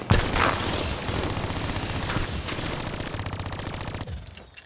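Sustained automatic gunfire from a Call of Duty: Black Ops III match, dense rapid bursts rattling continuously at close range before tapering off near the end, with no talk over it.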